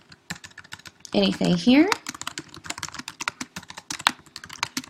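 Clicky computer keyboard typing comes in quick irregular bursts of keystrokes, close by, with a short stretch of speech partway through.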